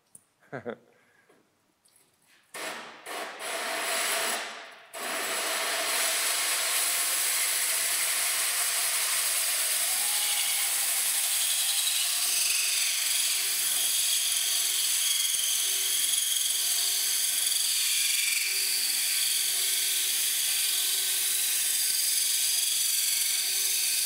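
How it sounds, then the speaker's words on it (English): A water-cooled drill bores a hole in tile, starting after a few brief knocks and then whining loud and steady with a high grinding tone for about twenty seconds, alone without talk. "So as you can see, don't take a long time to drill a hole inside of the tile."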